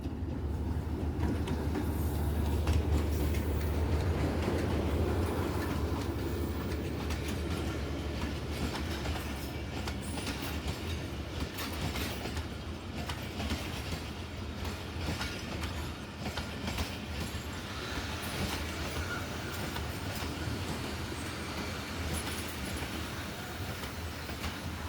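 Train pulling into Jand Junction railway station, a continuous loud rumble of rolling cars and wheels with faint clatter, heard from the platform without talk.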